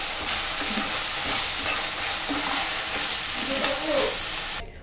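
Onion and spice paste sizzles in a pan while a spoon stirs it through in repeated scraping strokes, a continuous close frying hiss that stops abruptly at the end.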